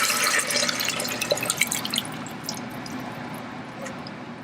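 Diced and crushed tomatoes and vegetable broth pouring into an Instant Pot, a wet splashing and dribbling stream that tapers to soft drips, close and moderate.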